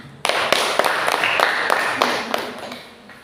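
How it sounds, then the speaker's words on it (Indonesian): A small classroom group claps together in a short burst, with distinct individual claps and several sharp, separate slaps over a thin, uneven wash, fading after a few seconds. "Ya, kita berikan tepuk tangan."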